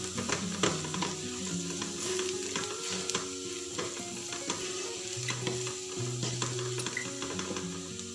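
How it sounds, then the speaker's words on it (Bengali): Chicken pieces stirred in a pan with cumin and garam masala powder, a continuous close sizzle broken by scraping stirs and soft clinks, with no voices. "জিরা পাউডার আর দিয়ে দেবো গরম মশলা পাউডার। নেড়ে নিয়ে দেবো এটাকে।"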